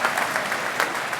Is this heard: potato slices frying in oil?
no